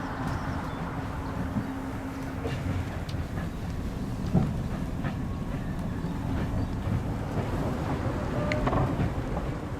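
A freshly serviced Sapsan high-speed train in motion gives a continuous low rumble and rolling roar, with faint clicks and rattles over the top and no talk.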